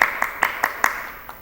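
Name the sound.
round of applause for students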